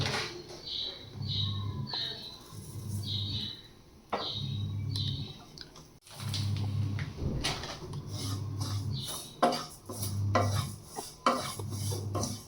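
Black sesame and black cumin seeds being stirred in a dry pan while making healthy laddoos, a steady scraping and rustling of the seeds with intermittent rhythmic scrapes and a few sharper clinks, close by with no talking.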